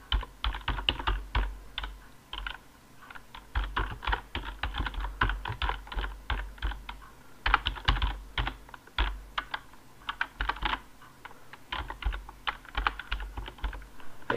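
Fingers type text on a computer keyboard in bursts of rapid, close clicking keystrokes with brief pauses between runs, steady and distinct throughout with no voices.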